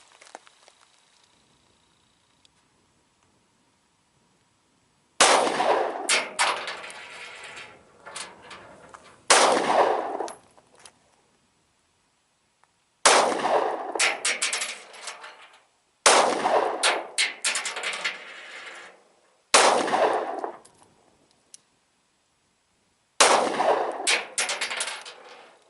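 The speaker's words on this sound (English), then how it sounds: "we're going to put the first 7 out of this little EC9" A Ruger EC9 S striker-fired pistol fires seven rounds at a target seven yards off, loud sharp cracks in irregular bursts separated by short pauses, each shot ringing out with echo.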